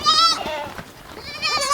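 Goats bleat loudly at close range, one wavering call at the start and another near the end, with softer rustling in between.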